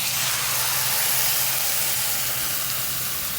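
Squid for adobong pusit hits a hot pan and sends up a loud, steady hiss of sizzling steam that holds evenly with no pauses.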